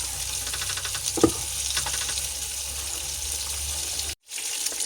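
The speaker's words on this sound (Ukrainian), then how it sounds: "Ось так, рибка вже наша піджарилась, підсмажилася." Silver carp sizzling as it fries in a pan, a steady close crackle and hiss with one brief utensil clink, cut off by a short moment of silence near the end.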